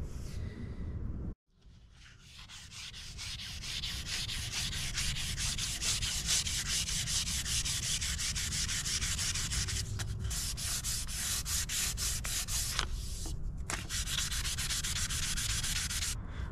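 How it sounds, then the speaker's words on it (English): An axe handle gets a light sanding with very fine sandpaper, a steady close rasping rub that runs almost continuously after a brief pause near the start, with a few short breaks between strokes. "Did a light sanding of the axe handle"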